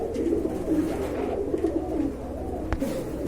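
A pair of satin pigeons at a pigeon sale coo in low, throaty, repeated burbling calls close by, with a short sharp click partway through.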